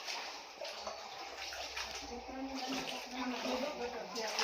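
Floodwater mixed with sewage sloshes and swirls along a waterlogged street near Wankaner railway station road, a continuous watery wash heard under nearby voices.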